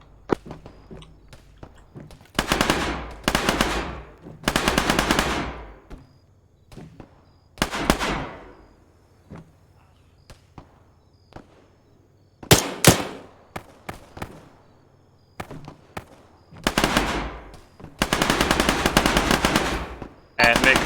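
Bursts of automatic machine gun fire crack out repeatedly in a hillside firefight, some long rattling strings and some short volleys, loud and close with brief gaps between them.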